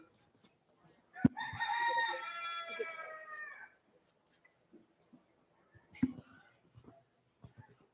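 An Old English chicken at a junior livestock poultry show gives one loud, close crow lasting about two and a half seconds, followed by softer clucks and faint background noise.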